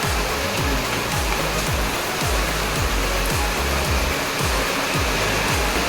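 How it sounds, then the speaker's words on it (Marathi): Heavy rain pouring down in a Devgad, Konkan setting, a dense, loud, continuous hiss of water with no let-up and no voices. "असा जबरदस्त पाऊस आहे"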